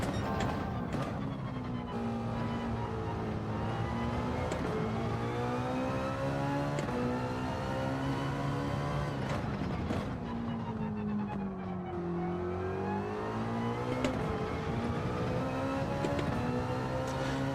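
A race car engine in a racing video game time trial revs and shifts through gears, rising and falling in pitch over and over, loud and steady with no talk.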